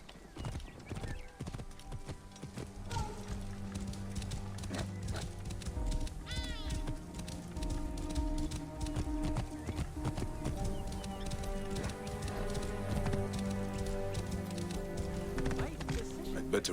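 In the video game Assassin's Creed Origins, a horse's hooves clip-clop in a steady rhythm and it gives a brief whinny, over layered tonal game music and ambience.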